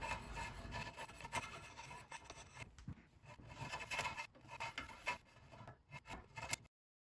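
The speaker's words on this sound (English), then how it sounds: "I'm probably going to use my draw knife." A draw knife shaving along an ash wood bow stave, giving repeated rough scraping strokes, close and fairly loud, with a brief pause near the middle.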